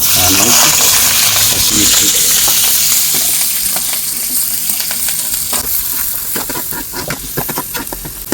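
Onions and whole spices such as cloves, cardamom, star anise, nutmeg and mace fry in hot oil for a chicken curry, giving a loud, continuous sizzle with stirring scrapes and crackles close by.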